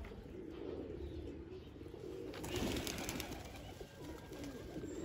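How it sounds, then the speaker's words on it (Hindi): A black pigeon coos in soft, low, repeated calls that sit close under faint background noise, with a brief louder rustle partway through. "काला कबूतर"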